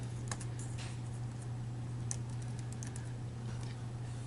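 Light tapping of keys on a computer keyboard, a few scattered soft clicks close by over a steady electrical hum, with no talking.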